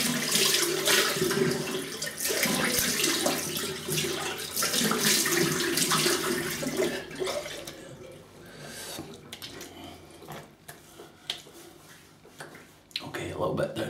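Running tap water pours strongly as a razor blade is rinsed after shaving, then stops; a few quieter splashes and clinks follow, close by, with no speech over it.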